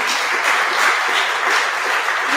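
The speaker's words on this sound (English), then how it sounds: "Let's give Nipa a big round of applause for all she does." Town hall audience giving a round of applause for a staff member named Nipa, a loud, steady wash of many hands clapping close by with no break.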